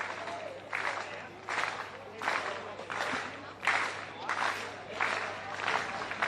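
A stadium crowd at a Little Athletics championship claps in slow, steady rhythm for a high jumper, regular swelling beats roughly every 0.7 seconds over a broad crowd murmur.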